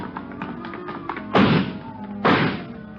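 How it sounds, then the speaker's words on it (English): A door is broken through in an old radio drama sound effect: two heavy, booming thuds about a second apart, set over a low continuous background with faint earlier taps. "Come on, he broke through the garage doors."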